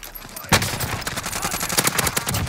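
Rapid automatic gunfire in Call of Duty Warzone on the Rebirth map: a sharp opening shot, then a close, loud burst of repeated cracks in quick rhythm, with players talking over it.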